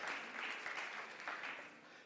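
Audience clapping fills the room at a zero-waste forum, a steady wash of applause heard at a distance and fairly quiet, with no one speaking.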